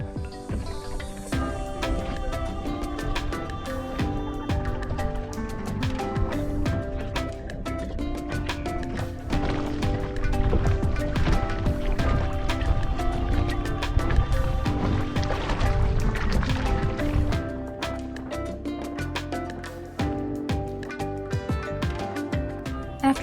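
Paddles dip and splash rhythmically as paddleboards cross tidal water near Cedar Key, Florida, a continuous watery churn with repeated strokes and gentle lapping, moderately close and without talking.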